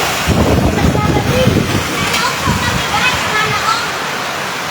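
Heavy rain and strong wind during a storm in Taytay, Quezon, a loud, continuous roar of downpour and gusts close to the microphone, with speech faintly mixed in.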